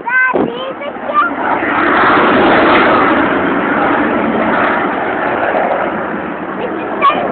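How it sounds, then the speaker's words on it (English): A Hawker Hunter F Mark 6 jet with a Rolls-Royce jet engine passing at an air show, a loud sustained broadband roar that swells and holds for several seconds, with brief voices at the start and end. "This particular aircraft, a Hawker Hunter F Mark 6, powered by a Rolls-Royce Haven jet engine"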